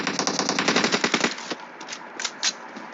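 Automatic gunfire in PUBG Mobile comes as a rapid, loud burst of shots for over a second, followed by a few scattered, fainter single shots and echoes.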